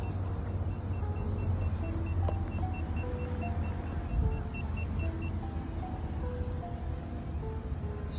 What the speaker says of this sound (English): a lot of cars driving around the place